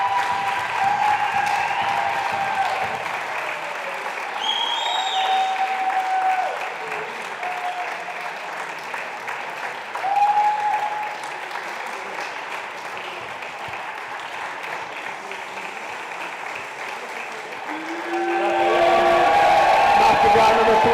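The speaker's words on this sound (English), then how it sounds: "Round of applause for the champion." Sustained applause from a crowd at a squash finals, steady clapping that fills the whole stretch and swells louder near the end, with occasional voices and whistles mixed in.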